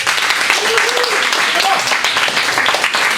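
A game show audience claps for a volunteer in a brief, dense burst of applause that fills the room and stays fairly loud throughout.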